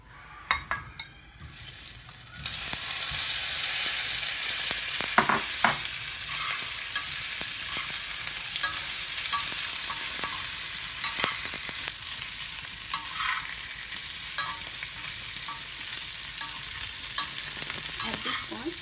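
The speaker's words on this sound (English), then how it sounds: "At this point, we are just frying the potato for a little bit." Boiled potatoes fry with turmeric in a pan for a Nepalese dish. A loud continuous sizzle starts after a quiet opening, and utensil scrapes and clinks stir through it with no talk.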